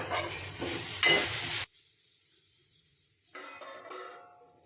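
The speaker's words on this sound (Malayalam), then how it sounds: "ഉള്ളി ഇഞ്ചിയൊക്കെ നന്നായിട്ട് വഴുന്നു" Onion and ginger sautéing in a pan for mushroom masala: a bright sizzle with stirring scrapes and a sharp clink, then a sudden quiet gap before softer frying hiss resumes; no voices.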